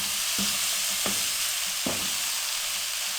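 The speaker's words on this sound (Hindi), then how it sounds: "अब इसको हम अच्छे से मिक्स कर लेंगे।" Potato stuffing with chopped coriander is stirred in a hot kadai: a constant bright sizzle with three distinct scraping strokes of the spoon against the metal.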